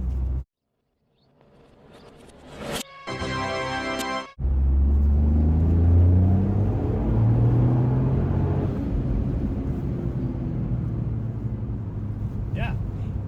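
A 2025 Toyota GR Yaris facelift drives along with a low, steady engine and road rumble. Brief clicks and a buzzy tone come early, then the cabin drone settles in and holds, close and continuous.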